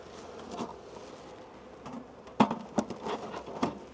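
Honeybees in a beehive during queen rearing give a faint, low buzz, broken by several sharp clicks and knocks from frames and equipment being handled nearby.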